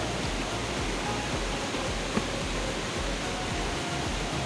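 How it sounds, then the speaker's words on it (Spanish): Water poured over the ashes of a spent campfire gives a steady, close hiss and splash that runs without a break, with no voices. "echarle agua a las cenizas para evitar incendios"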